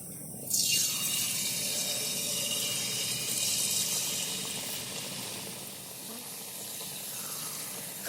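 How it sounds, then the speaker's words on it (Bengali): Palm fruit jalebi batter sizzles and crackles in hot oil in a steady, close, moderately loud wash of frying noise that surges near the start and then settles. "তাই আগে জিলাপিটা আমি ভেজে নিচ্ছি"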